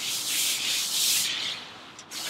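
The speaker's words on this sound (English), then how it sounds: "Let me get back to scrubbing a little bit more." A brush scrubs the greasy interior of a Lone Star Grillz offset smoker with vinegar water, a steady close rasping hiss in long strokes with a brief dip before resuming, no voices.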